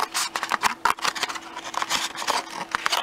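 Scissors cut through a folded paper plate in a craft project, a run of quick, rough snipping and crunching strokes, close and fairly loud, repeating unevenly with no talking.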